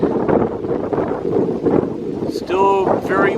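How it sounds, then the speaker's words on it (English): Steady wind roars and buffets against the microphone throughout on a hiking trail in Iroquois Park, with a person speaking briefly near the end. "Still very windy."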